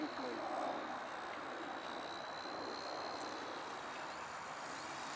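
Radio-controlled Cessna 747 four-channel ARTF model airplane flying at about a third throttle, its small engine giving a steady, continuous drone at moderate distance throughout.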